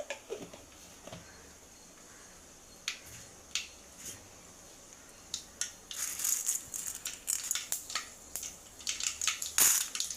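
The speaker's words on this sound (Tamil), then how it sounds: "நம்ம கடுகு நல்லா பொரிஞ்சு வரட்டும்" Mustard seeds spluttering in hot oil in a kadai, sparse crackles at first that build into dense, rapid popping and sizzling, close and fairly quiet.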